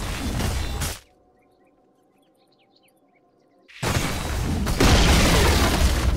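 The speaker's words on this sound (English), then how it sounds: "Radiant's middle tower has fallen." A tower collapses in Dota 2 with a loud, rumbling crash. A near-silent gap with faint tonal sounds follows, then another heavy, sustained roar of destruction.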